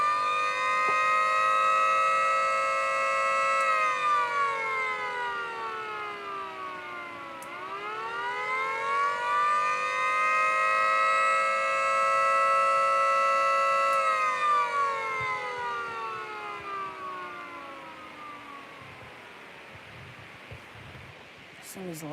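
Federal Signal Model A siren wails loudly and steadily, its pitch dipping and rising as it sweeps, then slowly winds down with a falling tone toward the end.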